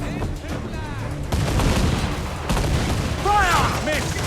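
Ship cannons boom in a naval battle in the video game Assassin's Creed Black Flag, several heavy blasts in quick succession over rumbling battle noise, with shouted crew voices mixed in.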